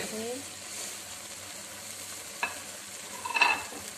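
Fried okra and onions stirred in a pan of boiling water, soft faint sizzling and bubbling with a couple of light clinks of a spoon against the pan, heard at close range.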